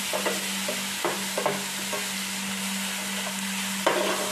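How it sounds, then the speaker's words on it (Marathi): Onion, garlic and cumin sautéing in a pan for a river-fish curry, a continuous close sizzle with a steady hum beneath and occasional knocks and scrapes of a spoon stirring. "परतून घ्यायचं व्यवस्थित। कांदा भाजला गेला पाहिजे।"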